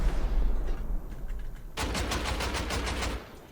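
Automatic gunfire in the survival video game Rust during a house raid, a fast rapid burst of shots starting midway and continuing steadily after a quieter stretch of ambient game noise.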